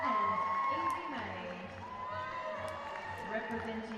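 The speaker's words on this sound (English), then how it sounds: "Big cheers all around." Crowd at the Australian Gymnastics Championships cheers as athletes are presented to the crowd and judges, a fairly faint, steady spread of cheering and whoops under a commentator's voice.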